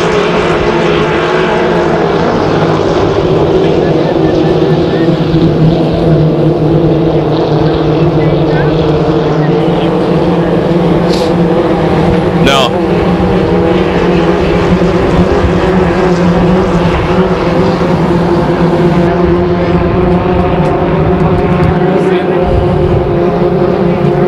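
Racing powerboats with 2.5-litre engines in a Syracuse heat race, the red and white boats running side by side out of a turn, roar loud and continuous on the water while a race commentator talks over them.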